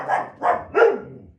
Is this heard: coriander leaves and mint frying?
no